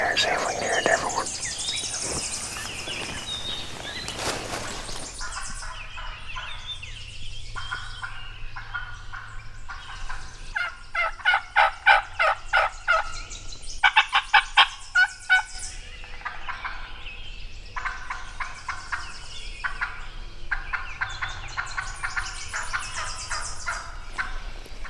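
Wild turkey gobbler on public land gobbling in a burst of rapid rattling calls, moderately near, with a few quieter gobbles and soft rustling and whispering around them.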